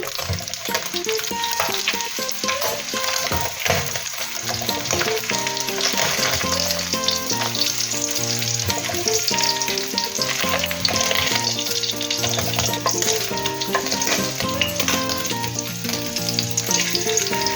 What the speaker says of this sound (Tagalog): Ayan, at luto na po ang ating pritong galunggong.